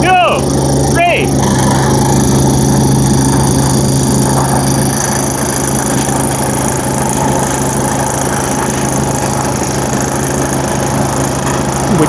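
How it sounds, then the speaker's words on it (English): Two Rippa mini skid steers, an RS06 and an RS04, run their engines at full throttle, a loud steady droning rattle close by throughout with a few short voices rising briefly early on. "We'll start the engines. Give it max throttle."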